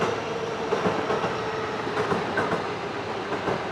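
A JR train in Japan, with a green car, rolls past nearby as a continuous heavy rumble layered with rhythmic clickety-clack from the wheels, steady and fairly loud throughout, with no voices.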